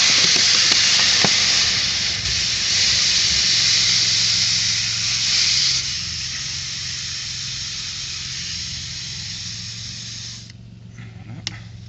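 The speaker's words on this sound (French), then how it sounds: "il faut remplir la bouteille d'eau" Water streams into a plastic bottle with a steady, bright hissing rush that holds for several seconds, then thins and stops, followed by faint handling clicks.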